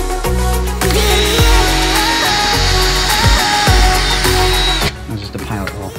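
Power drill boring a pilot hole in wood, a loud close whirring motor held steady for several seconds with brief pitch dips as it bites, then stopping near the end.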